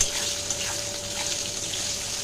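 Water poured from a height into a pan of fried eggplant, onion and mustard paste, making a steady splashing gush that stays loud for the whole short moment with no talk.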